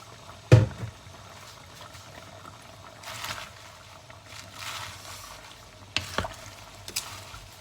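Napa cabbage and other vegetables drop into a pot of Thai chicken curry with a brief splash, followed by soft scraping and stirring sounds over a low simmer.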